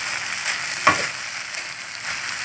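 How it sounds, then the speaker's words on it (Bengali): Potatoes and noodles stirred and frying in a pan for an Eid chicken and egg noodle dish: an even hissing sizzle with one brief scrape of the spatula near the start, close and alone. "আলু, নুডলস সবগুলোকে দিয়ে নেড়ে চেড়ে"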